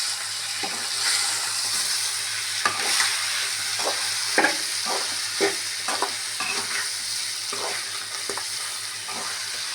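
Pepper chicken roast with a squeeze of lemon is stirred in a pan: steady frying sizzle under repeated scraping strokes of a spoon, close and even, with no voices.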